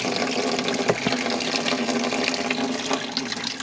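Running water rinses biodiesel-making equipment in a steady, loud, close gush that flows without a break from start to finish.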